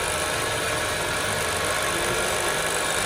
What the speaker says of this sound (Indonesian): Di sini kita akan melakukan pengecekan RPM pada motor roda gigi ini.